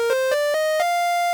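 Synthesizer lead built from wavetable, analog and PWM oscillators plays four short rising notes, each with a bright attack, then the last note is held steady and clean with a rich harmonic stack.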